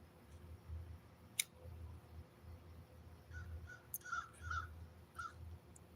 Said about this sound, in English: Are you guys able to hear the crows?